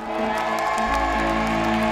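Studio audience on a celebrity talent show applauding and cheering together, a loud, steady wall of clapping and whoops that holds for the whole moment without letting up.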